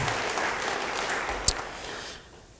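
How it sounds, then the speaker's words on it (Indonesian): Congregation applause during a church sermon, an even crackle of many hands with one sharp clap standing out, then fading away toward the end. "Beri tepuk tangan yang baik bagi dia."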